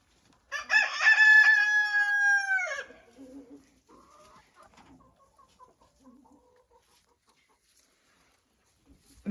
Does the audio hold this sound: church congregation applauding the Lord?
no